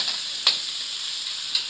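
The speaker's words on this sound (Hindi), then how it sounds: "इसको थोड़ा सा हम फ्राई करेंगे टमाटरों को" Tomatoes fry in a pan for aloo methi chicken, giving a steady, even sizzle with two short spoon clicks as they are stirred, close and with no voices.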